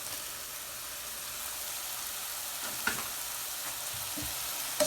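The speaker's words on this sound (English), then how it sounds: "now what we're going to do is we're going to add in the shallots and the garlic" Shallots and garlic fry in a pan, giving a steady, even hiss and crackle close by, with a couple of brief knocks near the end.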